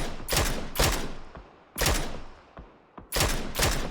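Gunshots in the battle royale game PUBG during a competitive scrim match, several loud, sharp rifle reports spaced irregularly with a few fainter distant shots between them, no talking over them.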